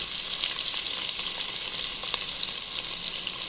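Onions fry in hot oil with cinnamon, cloves and cardamom for tomato rice, giving an even, bright sizzle with faint popping throughout and no voices.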